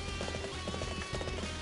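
Horse hooves gallop in the Dynasty Warriors 7 video game, a fast, even clip-clop rhythm of repeated beats over dense background game sound, with no voice over it.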